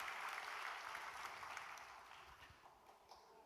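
A church congregation at an Easter service gives a round of applause, a faint, distant patter of many hands that gradually fades out.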